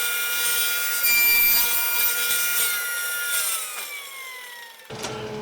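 A handsaw cuts notches into wooden shelving legs, with rhythmic rasping strokes close by that slow and fade toward the end, followed by a brief knock.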